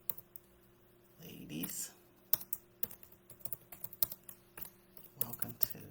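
Scattered keystrokes on a computer keyboard, close and uneven, tapping out short runs with pauses, while someone speaks softly over parts of it.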